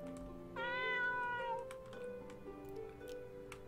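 A cat in a horror RPG video game gives a clear, drawn-out meow, followed by faint clicking and ticking sounds under a low background hum.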